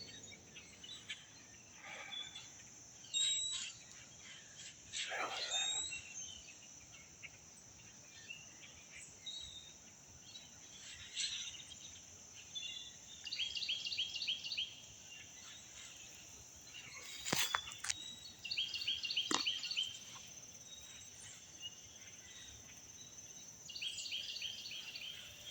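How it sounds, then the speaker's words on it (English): Quiet outdoor wildlife, with a steady high cricket-like drone and scattered bird chirps and calls at moderate distance, coming in short trilling bursts against a hushed background. "So you hear a lot of wildlife, or a lot of birds, really."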